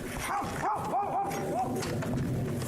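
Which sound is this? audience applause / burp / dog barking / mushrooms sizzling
dog barking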